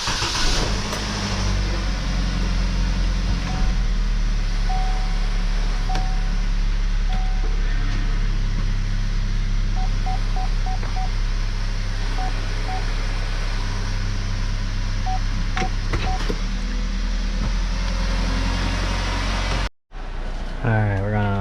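A 2013 Chevy Captiva idling after a start and backing up a short way: a close, steady engine drone with a tonal hum on top, then an abrupt brief cutout near the end; a voice is faintly present.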